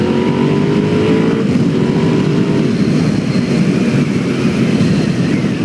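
A Suzuki SV650s V-twin motorcycle engine runs loud and close at sustained high revs, a dense continuous roar with a slight rising pitch early on.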